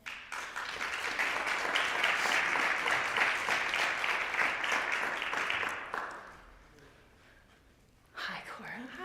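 An audience claps warmly after a student's talk at a school presentation showcase, with dense, sustained applause for about six seconds that then dies away, followed by a brief spoken voice.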